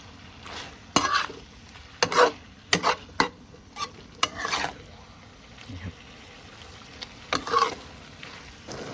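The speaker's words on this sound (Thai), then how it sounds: "นี่เราจะผัดให้หอมหัวใหญ่พอสุกนะครับ" Large shrimp stir-fried with onion and roasted chili paste in a pan, with a spatula scraping and clacking in irregular strokes over a soft background sizzle, close up.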